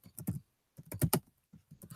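Keys clatter on a computer keyboard in a few quick bursts of typing separated by short pauses, close and fairly quiet with no talk.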